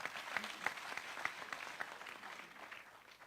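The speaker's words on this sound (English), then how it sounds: "Please give them collectively a big clap." Audience applause at a family gathering, a steady wash of clapping with a few sharper individual claps standing out, moderately loud and continuous for a few seconds.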